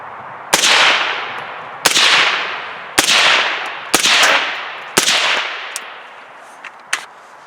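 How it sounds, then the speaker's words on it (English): Five suppressed 5.56 rifle shots through an AAC 762-SDN silencer, each a sharp loud crack with a hissing decay, spaced about a second apart, followed by faint metallic clicks. "I want to give you guys an idea of what this sounds like with the suppressor on"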